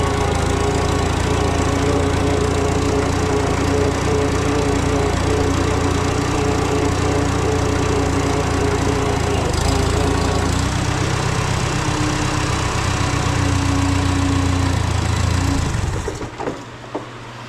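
An old Farmall Super A tractor engine runs loud and close in a steady, rough idle with a rattling mechanical drone, then cuts off abruptly near the end.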